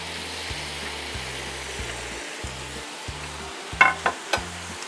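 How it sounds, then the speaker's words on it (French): Brioche slices frying in foaming butter, giving a soft steady sizzle with a few clinks and scrapes near the end under a low rhythmic hum. "vous venez déposer vos 2 tranches de brioche dans le beurre mousseux"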